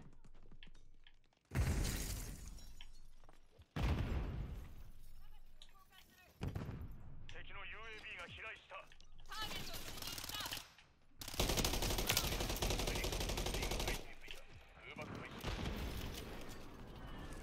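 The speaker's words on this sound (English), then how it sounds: "That was my airstrike." Airstrike explosions and bursts of gunfire in a Call of Duty: Modern Warfare match, arriving in loud broadband blasts and rattling volleys separated by brief gaps, with a sustained heavy barrage near the end.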